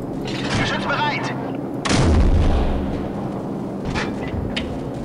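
An artillery gun fires in the video game Call of Duty 4, its heavy deep boom landing near the middle and rumbling off. Faint game sounds and a voice in German are heard under and around the blast.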